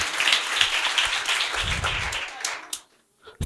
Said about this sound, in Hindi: आज जोरदार ताली बजाएंगे खुदा उनके जलाल के लिए